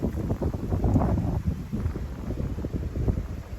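Steady wind buffets the microphone outdoors in mountainous terrain, a low rumbling roar that rises and dips without pause.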